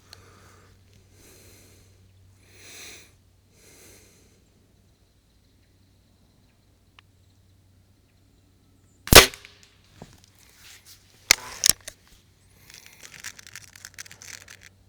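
A budget spring-piston air rifle firing Crosman Premier Ultra Magnum pellets, a sharp close crack followed by a second shot a couple of seconds later, with faint breathing and handling noise around it.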